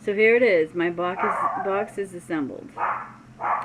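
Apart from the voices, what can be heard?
dogs barking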